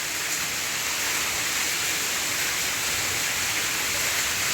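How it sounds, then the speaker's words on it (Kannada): Heavy monsoon-style rain pours down in Bengaluru as a dense, even hiss of water. It stays constant and loud throughout, with no voices. "ಸಿಕ್ಕಾಪಟ್ಟೆ ಹೆವಿ ಮಳೆ ಬರ್ತಾ ಇದೆ"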